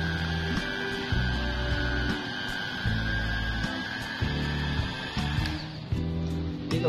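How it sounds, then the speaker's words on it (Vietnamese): A The Fade 30W electric hair clipper runs steadily with a low, even motor hum, its tone shifting slightly in short pulses as the blade is pressed, fairly quiet and close with no talking. "Chiếc tông đơ này tiếng chạy tiếng máy của nó không phải là kiểu to"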